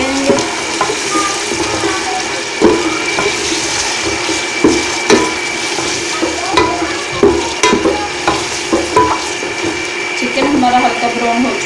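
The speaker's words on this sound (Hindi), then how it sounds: "इसे 5 मिनट के लिए पकाएंगे। चिकन को हल्का ब्राउन कर लेंगे।" Chicken browning in a pan for biryani sizzles steadily while a spoon scrapes and stirs it in repeated clanking strokes, close and fairly loud.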